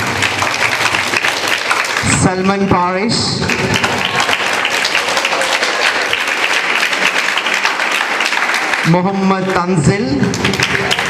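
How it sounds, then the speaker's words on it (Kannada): Sustained applause from a crowd at a Kannada literary council student event in Mangaluru, steady and loud throughout, with a voice twice reading out student names over the clapping. "ಚಪ್ಪಾಳೆ ಶಬ್ದಗಳೇ ಬರುತ್ತದೆ."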